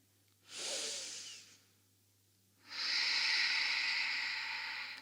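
Two soft, airy breaths during a held yoga pose: a short hissing inhale, a pause, then a longer, steady breath drawn through the nose, close and quiet, with no talking.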